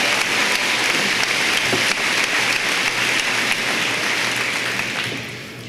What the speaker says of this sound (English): Please give these students a round of applause for their hard work and dedication.